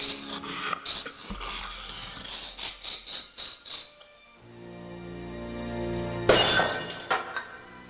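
Glass cabinet smashed in the video game Discworld Noir, a rasping scrape of glass followed by a series of rhythmic scratching strokes, a low tonal hum, then a sharp loud shattering crash near the end.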